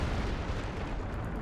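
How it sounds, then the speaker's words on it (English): British artillery in a Company of Heroes 2 match on the Essen Steelworks map, heard as a dense, continuous distant rumble of shelling, heavy and low without distinct separate shots. "I think it's British artillery."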